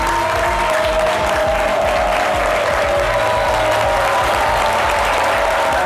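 A crowd applauds at a live midday event, dense continuous clapping heard close and loud for several seconds, with a few voices faintly mixed in.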